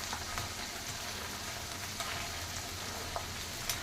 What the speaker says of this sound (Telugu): టప్ప పేలుతాయి. అందుకని పైన మూత పెట్టాను.